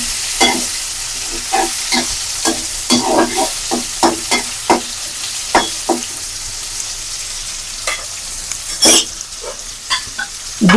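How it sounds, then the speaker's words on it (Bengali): Onions frying with tomato and green chili sizzle steadily in oil while a spoon scrapes the pan in repeated, fairly loud strokes, with no voices. "পেঁয়াজ হালকা বাদামি হয়ে যাচ্ছে, এর থেকে বেশি বাদামি করতে হবে না।"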